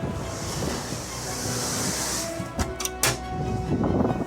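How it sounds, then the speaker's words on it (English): Waves surge and crash against a seafront with a broad rushing roar, wind buffeting the microphone, and a few sharp splashing impacts near the end. "The water is now rising over 50 feet as the waves hit the front."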